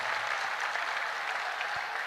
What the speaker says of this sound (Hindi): ये एक बार ताली जोरदार बजा करके धन्यवाद दो